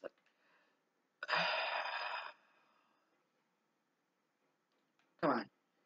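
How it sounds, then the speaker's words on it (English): Heavy breathing from a Call of Duty player character close to death, made of two loud rasping breaths separated by silence, with a brief softer breath at the start. "your guy in this game makes, like, some really heavy breathing out there"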